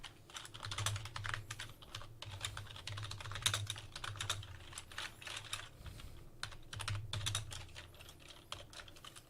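Fast, close typing on a computer keyboard during a late-night Bible study, with irregular bursts of key clicks and brief pauses throughout.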